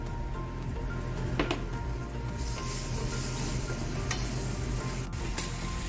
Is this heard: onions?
yes